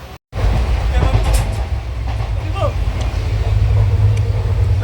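A train running, heard from on board: a loud, steady low rumble with faint rattling, following a brief silence at the start.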